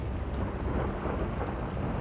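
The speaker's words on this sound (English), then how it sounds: "Outside, the storm raged on." A raging thunderstorm at night, with a steady deep rumble of thunder and heavy rain pouring throughout and no voices.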